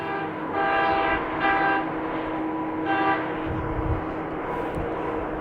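A large copper mine haul truck sounds its horn in repeated loud blasts over a deep rumbling engine, fairly close and with no talking.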